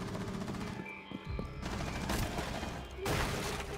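Gunfire in Rainbow Six Siege rattles in close bursts, with one volley near the start, another in the middle and a loud final burst, over constant background game noise.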